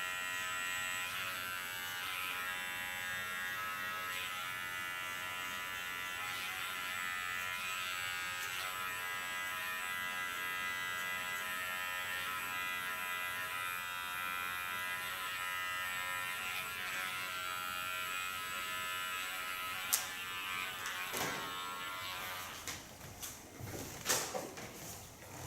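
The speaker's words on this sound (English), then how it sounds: "go to my large clipper and soften the lines a bit so they flow nicer into each other" A large electric hair clipper hums steadily and close for most of the stretch while softening the lines of a side-shave haircut, with a few sharper clicks and handling knocks near the end.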